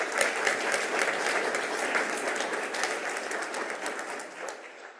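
An audience at a school recognition ceremony applauds steadily in a dense round of clapping that holds for several seconds, then thins and fades toward the end.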